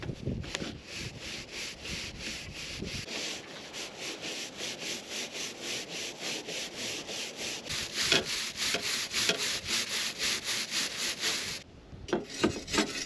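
An old, misshapen brush scrubs the inside of a stove flue pipe, rhythmic repeated scraping strokes in a steady back-and-forth pattern, close and moderately loud, briefly pausing near the end.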